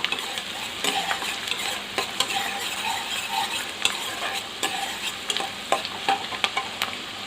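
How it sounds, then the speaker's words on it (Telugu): Chopped onions fry in hot oil for a brinjal curry, giving a continuous bright sizzle. Regular scraping strokes of a spoon stir through it, close up and without voices. "ఉల్లిపాయ ముక్కలు మంచిగా రెడ్గా గోల్డెన్ కలర్ వచ్చేంత వరకు వేయించుకోవాలి."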